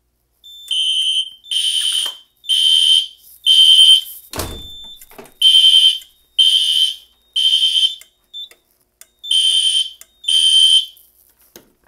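A vintage ADT fire alarm on a Simplex 4010 panel test blares in repeated short bursts of a shrill electronic tone, loud and close, with a brief thud partway through.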